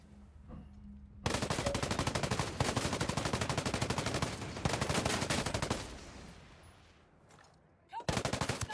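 Rapid automatic gunfire in the video game Ghost Recon Breakpoint, several long, loud bursts of fast repeated shots separated by short pauses, with one more burst starting at the end.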